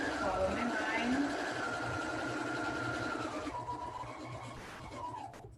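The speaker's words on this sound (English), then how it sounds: "I sew one side, now I need to sew to the other side." A sewing machine stitches across fabric squares in a patchwork quilting project, its busy mechanical chatter running close and continuous before easing off toward the end.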